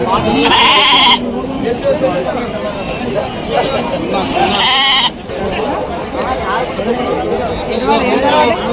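Goats and sheep bleat loudly at a weekly livestock market, with two prominent close cries and fainter bleats scattered among constant bargaining voices and crowd chatter.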